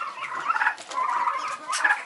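Domestic turkeys on a farm, a flock of hens with several toms, give bursts of gobbling and throaty calls in three loose waves, close and moderately loud, with no talk.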